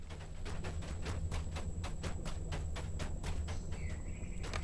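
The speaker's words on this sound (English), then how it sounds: "I hear our footsteps on the earth and in the grass" Steady, evenly paced footsteps crunch over earth and grass in the fantasy game LOTRO, a regular rhythmic tread close by over a low ambient hum, with a faint tonal chime near the end.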